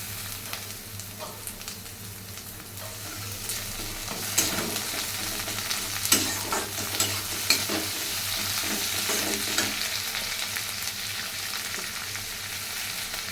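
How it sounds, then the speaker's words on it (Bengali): Onions browned in a pan sizzle and fry as tomato and ginger-garlic paste go in for a tarka, with steady hissing and intermittent scraping stirs close up, no talking. "এখন টমেটো আর আদা রসুনের পেস্টটা দিয়ে দিব।"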